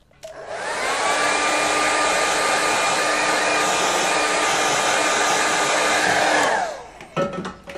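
A hair dryer blows over a watercolour painting with a loud, steady whir for about six seconds, then winds down and stops, followed by a few light handling knocks.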